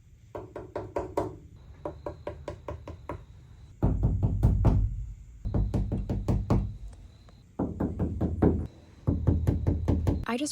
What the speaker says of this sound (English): here's the audio difference when I tap on the metal before and after sound deadening